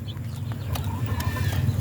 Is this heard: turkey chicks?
yes